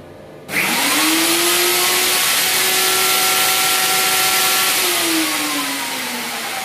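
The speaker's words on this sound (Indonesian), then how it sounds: "Coba mesin itu dengan spek 3000 watt startnya." A generator engine starts and runs under heavy load from a 15 kW low-frequency inverter, a loud steady mechanical drone with a rising pitch and sustained whine, holding level for several seconds and easing slightly near the end.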